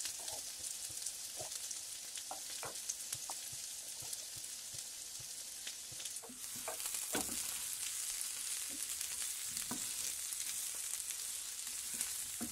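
Spices and tomato paste frying in a pan for matar paneer, a soft steady sizzle with light stirring clicks, the hiss swelling louder partway through, no speech.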